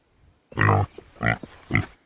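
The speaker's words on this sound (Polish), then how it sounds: "Śpiący dzik." A sleeping wild boar lets out three close, deep grunts, the first long and rough, the next two shorter, separated by brief pauses in an otherwise quiet outdoor setting.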